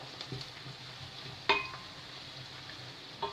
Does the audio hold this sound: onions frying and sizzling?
yes